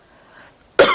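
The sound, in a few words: cough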